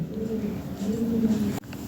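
Show-quality Lahore Siraji pigeons coo nearby in two low, rolling calls, with a faint background murmur.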